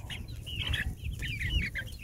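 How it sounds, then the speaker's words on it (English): Chickens cluck close by in short, repeated bursts, several calls overlapping across a couple of seconds over a low background rumble, with no talk. "Yep, I like my chickens."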